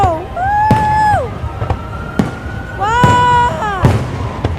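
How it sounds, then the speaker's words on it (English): Fireworks exploding in sharp, well-spaced cracks and booms, four or five bursts, mixed with whistling, wavering tones and cheering voices. "We are still looking at the fireworks here coming from 2025."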